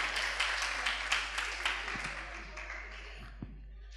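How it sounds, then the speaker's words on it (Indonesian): An audience at a leadership workshop session applauds the participants, a quiet, somewhat distant patter of clapping that continues for about four seconds and tapers off near the end. "Kasih tepuk tangan dong buat mereka semua"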